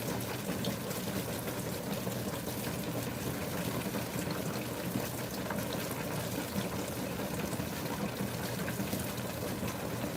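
A washing machine set to a bulky cycle fills with water, a steady low rushing and trickling drone that continues evenly throughout at a soft level.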